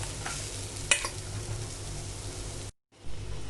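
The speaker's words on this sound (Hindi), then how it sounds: "सब्जियां भून लेती हूँ। कढ़ाई में मैं डालूंगी 1 चम्मच जितना ऑलिव ऑयल।" Onion frying in olive oil in a kadhai gives a steady close sizzle with a few stirring scrapes, then cuts out briefly before the sizzle resumes.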